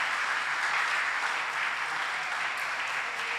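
A church congregation applauds in a steady, even wash of many hands clapping. The sound is continuous and fairly close, with no pauses.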